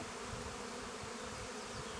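Honey bees hum steadily and densely at an open hive while two colonies are being merged, a continuous close buzzing with no voices.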